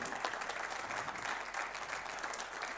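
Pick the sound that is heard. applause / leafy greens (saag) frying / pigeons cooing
applause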